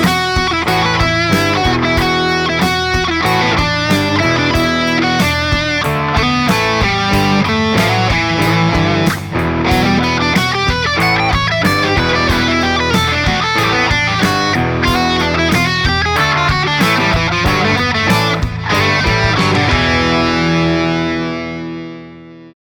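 Electric guitar lead blending country licks with metal style, played loud and continuous over distorted, effects-heavy tone for the whole stretch, ending in a sustained fade.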